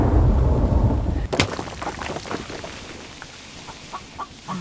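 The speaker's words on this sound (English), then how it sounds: "I hear a chicken." Chicken in the survival video game The Infected, a few short cluck-like calls repeating irregularly after a heavy rumbling burst and crack that fades into a steady stormy wash of rain.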